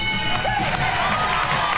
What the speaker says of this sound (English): We need to applaud that.